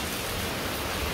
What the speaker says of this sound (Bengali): এখন এই যে বৃষ্টির অবস্থা